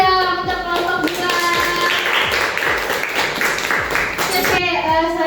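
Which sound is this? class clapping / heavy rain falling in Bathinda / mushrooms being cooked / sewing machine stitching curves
class clapping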